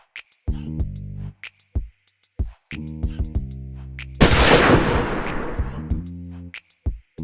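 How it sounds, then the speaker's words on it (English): A single sharp gunshot rings out in a movie scene from 48 Hrs. (1982) and trails off in a decaying crash, with sparse knocks and thuds around it. "Reggie is shocked that Jack took the shot."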